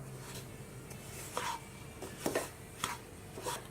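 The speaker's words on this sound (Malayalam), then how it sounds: "ഒരു 5 മിനിറ്റ് നമുക്ക് ഒന്ന് ഇളക്കി കൊടുക്കണം" Semolina roasting in ghee in a pan is stirred with slow, regular scraping strokes, each soft rasp spaced about half a second to a second apart, faint over a quiet background hiss.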